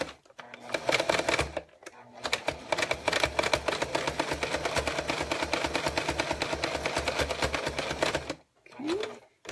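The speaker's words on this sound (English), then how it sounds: "going to turn it over and sew along the seam, so we use the stitch that we've already used as a guide" Sewing machine stitching along a zipper seam, starting with a short burst, then running in a fast, steady mechanical rattle for several seconds before stopping, close and clear, with brief sounds of handling the fabric at the end.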